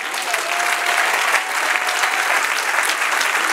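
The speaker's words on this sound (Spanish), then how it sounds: "Denle un aplauso al Señor." A congregation in a church breaks into loud, sustained applause during a sermon, a dense, steady wash of clapping filling the room from start to finish.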